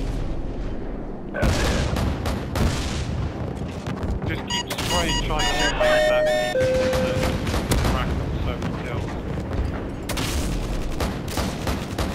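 A Predator missile strike lands amid a Call of Duty firefight, heavy booming blasts and rattling gunfire filling the mix, with radio-style voices talking over the chaos.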